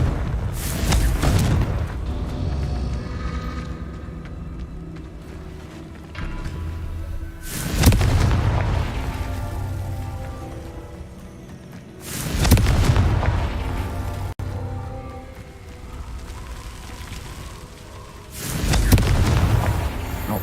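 Confringo blasting spell cast in Hogwarts Legacy, setting off a series of heavy, booming explosions at roughly regular intervals, each a loud deep burst that rumbles and fades before the next.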